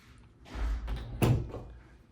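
A single closet door in a brand-new prefab mobile home swings and shuts with a soft rolling movement, then a sharp close thump, heard up close in a quiet room.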